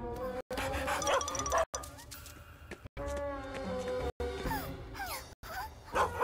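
A cartoon service dog barks and yips in quick bursts, close and loud, mixed with whimpering, springy cartoon effects and brief pauses between phrases.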